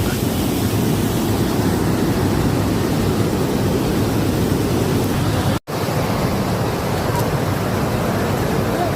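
Huka Falls in New Zealand pours as a loud, continuous roar of fast-rushing water, dense and steady throughout with a brief dropout midway and some wind buffeting on the microphone.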